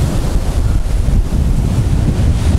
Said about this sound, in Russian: Волна идет выше этих бетонок.